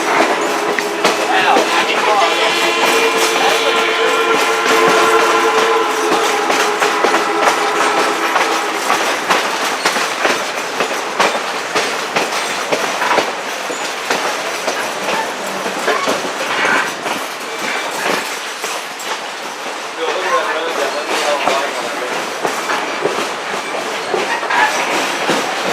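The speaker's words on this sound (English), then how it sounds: "Y'all may not be able to see the steam locomotive," Aboard a GSMR railroad excursion pulled by a steam locomotive, the train runs loud and close with steady clickety-clack of wheels over rail joints, brief squealing tones early on, and voices murmuring beneath the rumble.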